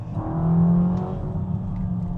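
A Ferrari Amalfi Spider engine revs up in sport mode, a steady loud drone with a rising tone that swells early and then holds, with no talking.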